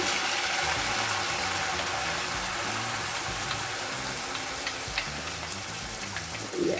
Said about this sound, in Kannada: ಇವಾಗ ನಾವು ಇದಕ್ಕೆ ರುಬ್ಬಿರೋ ಮಸಾಲೆನ ಆಯಿಲ್ ಹಾಕ್ಕೊಂಡು ಫ್ರೈ ಮಾಡ್ಕೊಳ್ಳೋಣ